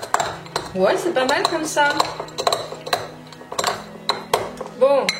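Peanuts crushed with a spoon in a bowl give off repeated clinks and scrapes of metal on dish, a close clatter in uneven bursts while a person talks briefly.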